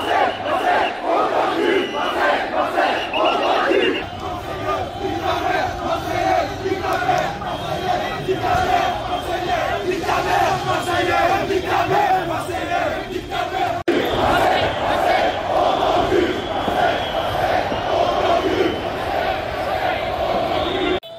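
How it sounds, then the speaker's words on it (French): Paris Saint-Germain football supporters on the Champs-Élysées chanting taunts at Marseille fans, a loud massed crowd roaring rhythmic chants with shouting and babble throughout. "Les supporters parisiens n'oublient pas de chambrer les supporters de Marseille"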